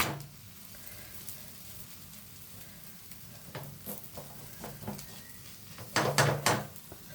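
Masala akki rotti, a rice flatbread, sizzles on a hot pan with a steady close frying hiss, then a few louder clatters and crackles near the end; no one speaks.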